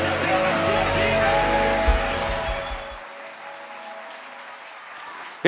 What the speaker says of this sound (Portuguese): Eu quero ouvir um aplauso